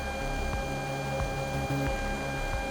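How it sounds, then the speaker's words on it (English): A Robo 3D R1 3D printer homes its axes with soft, steady stepper-motor whirs and faint clicks over a constant electrical hum, heard alone without any talking. "So the printer's homing now."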